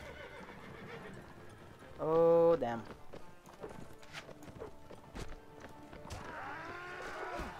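Horses in the Mount and Blade video game give one loud whinny amid clattering hooves and battle noise, with someone talking over the scene.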